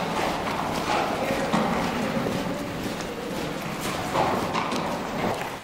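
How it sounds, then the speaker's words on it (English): Horses clip-clop along a tunnel on a Great Smoky Mountains hiking trail, hooves sounding as a steady, moderately close, echoing series of steps with low murmuring in the background. "They were having some trouble getting their horses to want to go through there."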